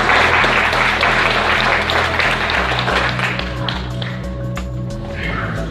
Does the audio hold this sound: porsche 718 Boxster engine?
no